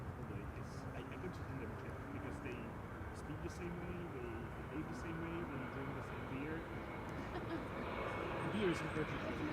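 Air Arabia Morocco airliner arriving from Tangier at Schiphol on the Kaagbaan 06 runway on a sunny day, a steady distant jet roar that swells slightly toward the end, with no talk over it.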